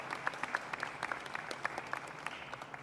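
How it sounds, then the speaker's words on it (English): An audience at the San Diego Comic-Con kickoff claps for people in costume, a moderate spread of hands with a few sharper individual claps standing out, fairly distant and fading within a few seconds. "A round of applause for all of our folks in costume, looking fantastic."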